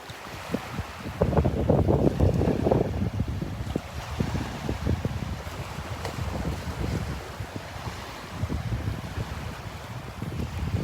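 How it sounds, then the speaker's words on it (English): A big gust of wind sweeps across the Delnor-Wiggins beach, rumbling loudly against the microphone early on, then easing into a steady lower roar with faint surf and no voices. "there comes a big blast of wind"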